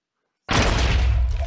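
Sticky bomb detonating in the Minecraft Advent of Ascension mod: after brief silence a single sudden loud blast hits, followed by a dense roaring rumble that holds to the end.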